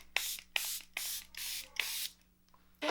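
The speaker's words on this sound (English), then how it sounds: "I'm going to set her with a Charlotte Tilbury setting spray." Charlotte Tilbury makeup setting spray is misted in five quick, evenly spaced bursts from a pump bottle, close and crisp, with no talking.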